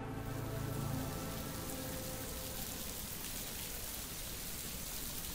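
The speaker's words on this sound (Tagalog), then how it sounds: "Medyo nababasa na kami dahil sa ulan." Steady rainfall pattering continuously as an audio drama sound effect, a soft, even hiss of drops throughout with no voices.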